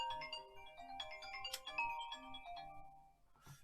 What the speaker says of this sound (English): That's my phone. I'm going to answer it.